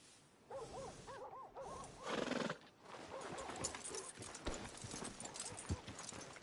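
A horse whinnies with a wavering neigh, followed by clip-clopping hooves and soft shuffling, close by and moderately loud.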